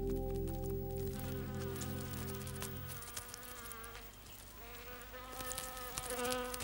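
Domestic bees, held in a laboratory and connected to sniffer tubes, make a dense, droning buzz with wavering pitch, close and continuous, with no voices.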